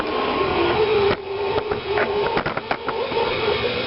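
Electric stand mixer running at low speed, kneading whole wheat bread dough in a steady whirring drone, with soft thumps and clatter as the dough turns.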